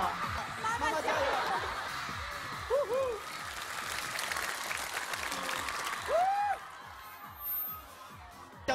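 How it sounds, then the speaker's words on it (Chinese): Studio audience applause on a Hunan TV variety show, a dense steady wash of clapping with scattered laughter and cheering, voices calling over it, swelling near the end and fading back. "掌声给他们"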